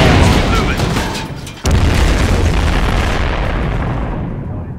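Explosions and gunfire in the Star Wars game Galaxy at War form a loud, dense, continuous barrage of booms, briefly cut off before slamming back in and rolling on without speech.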